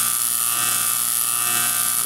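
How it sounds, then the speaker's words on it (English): A 1912-1913 F. Bissell Company suction cleaner running on its low setting gives a steady, close, even motor whine with a high airy rush that holds without pause. "F. Bissell Company suction cleaner. They kind of called it a vacuum, kind of didn't."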